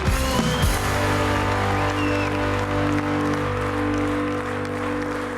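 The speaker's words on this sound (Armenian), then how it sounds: "եկեք ծափարենք Հայկին և Գարիկին" A studio audience at a comedy game show gives sustained applause for contestants Hayk and Garik, a dense, continuous clapping wash over a steady background hum, lasting the whole five seconds.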